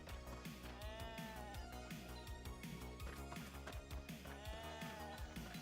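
Sheep bleating in the video game RuneScape 3, a few wavering bleats sounding over continuous game music that fills the whole stretch.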